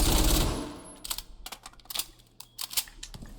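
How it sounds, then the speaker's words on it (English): Rapid gunfire striking an operator's shield in Rainbow Six Siege, a burst of quick sharp clicking shots after a loud opening thump, with scattered impacts and brief pauses in between. "is there any way you can destroy her shield from just shooting it?"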